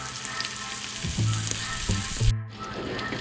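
A 60-day dry aged ribeye, cooked sous vide, sears in a pan with a steady loud sizzle and crackle throughout, plus a few low thuds and clanks of handling close by.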